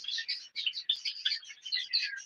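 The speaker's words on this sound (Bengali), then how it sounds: "দেখতে পাচ্ছ এটা হচ্ছে শুধু কালো পাখি আর কালো পাখি কিন্তু খুব ভালো একটা ব্রিডিং করে" Black Java sparrows in a breeding aviary chirp in a quick, continuous run of high, bright tweets. The calls are close and fairly soft, with no other sound behind them.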